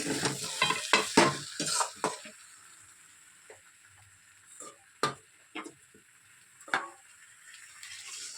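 Young jackfruit curry sautéing in a pan: a burst of busy, clattering stirring and sizzle at first, then a quieter stretch with only a few isolated spoon knocks against the pan.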